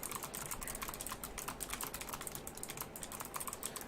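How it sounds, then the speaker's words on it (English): Rapid, steady typing on a computer keyboard fills the whole stretch, with dense, even clicks and no pauses or talk. "Somebody's typing."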